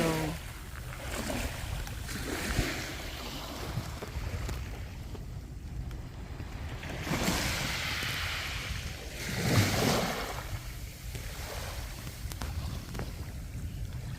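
Sea waves at high tide on a beach, a steady wash of surf with swells building and breaking in broad surges, some louder than others, over a continuous low rumble and a touch of wind.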